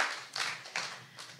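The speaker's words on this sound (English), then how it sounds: "Let's have a round of applause for that." Scattered applause from an audience at a church conversation event, a few soft separate claps and short bursts spread over a brief moment, fairly quiet.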